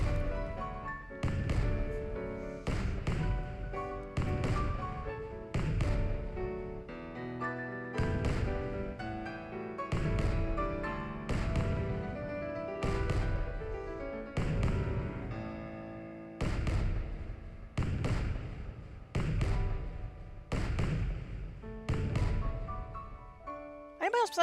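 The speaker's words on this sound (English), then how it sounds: "Anybody else besides me notice those fireworks sound like a heartbeat?" Fireworks in the Pokemon Moon video game thump in a slow, regular beat like a heartbeat, a long series of soft, deep thuds set over game music.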